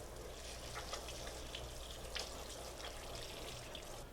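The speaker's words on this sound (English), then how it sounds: "Let's take our poblanos, put them under cold water" Cold tap water runs and splatters over poblano peppers in a kitchen, a steady close stream with small irregular splashes and no voices.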